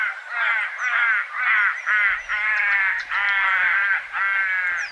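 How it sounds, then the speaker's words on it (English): Little crows from the drier western country calling in a played recording: a steady run of soft, nasal, croaking calls in quick repeated bursts, close and fairly loud, with no talk over them. "And then the little crows, which we get out west in the drier country, let's have a listen to them."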